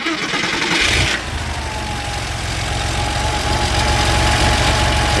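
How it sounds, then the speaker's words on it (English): A 1987 Porsche Carrera engine fires up with a short cranking burst, then settles into a loud, steady, close idle that continues alone. "So we're gonna go ahead and start it up"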